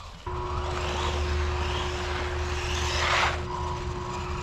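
A small WLtoys RC car drives fast, its electric motor giving a steady high whine with a strong constant tone, rising briefly as it accelerates and then holding speed.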